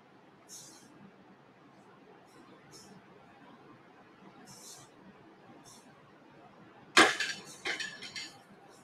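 Dry ingredient pours with a sudden clatter into an oval pan on a balance scale, followed by a few quieter rattling impacts after a mostly quiet stretch.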